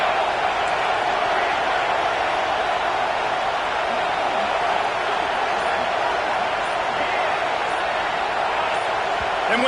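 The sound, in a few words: stadium crowd noise at USC vs BYU football game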